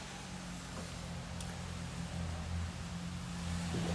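Small garden tiller engine running with oil spitting out of the muffler, a steady low rumbling drone that stays even and fairly faint throughout, with no talk.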